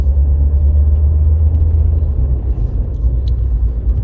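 A Mercedes car driven on a road gives a steady, loud low rumble of engine and road noise throughout, with faint higher clicks over the drone and no talk.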